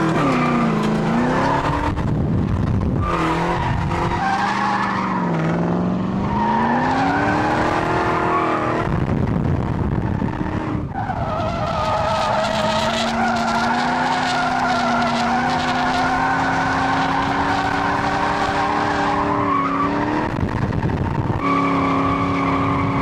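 Corvette sports car drifting, its tires squealing in long sustained wails while the engine revs and shifts pitch, loud and close throughout with brief breaks between slides.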